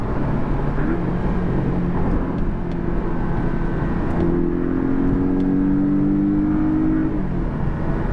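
A loud turbocharged four-cylinder Porsche 718 Cayman engine revs and accelerates hard, its droning pitch climbing steadily and then rising again, close and continuous.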